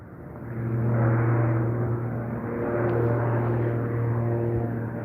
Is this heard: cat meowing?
no